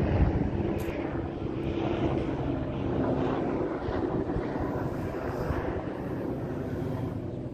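A propeller airplane flies overhead, a steady broad engine roar that holds loud and near throughout with no voices.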